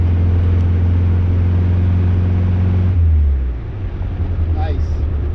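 A 1974 Saab Sonett's engine drones at a steady low pitch while cornering, then the tone drops off partway through as the car brakes, leaving a rougher, quieter rumble.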